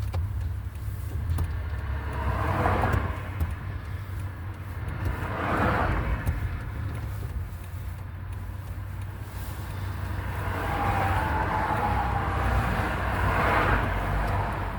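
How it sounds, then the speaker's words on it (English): Road traffic with cars passing by, a steady low rumble underneath while several vehicles swell up and fade away one after another at moderate distance, fairly quiet overall. "I don't know where all these fucking cars come from"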